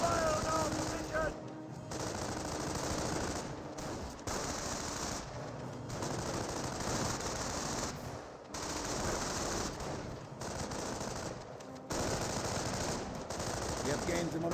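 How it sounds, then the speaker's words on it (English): Sustained bursts of machine-gun and rifle fire in a Company of Heroes firefight between German grenadiers and US riflemen, dense rattling volleys with brief lulls, loud and continuous throughout. "Grenadiers engaging the riflemen. We're taking fire on our position."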